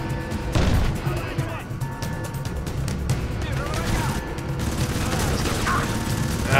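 Crysis Warhead combat: a grenade blast followed by rattling automatic gunfire and clattering impacts, dense and continuous throughout, with a voice speaking over the battle.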